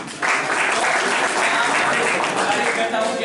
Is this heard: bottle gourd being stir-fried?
no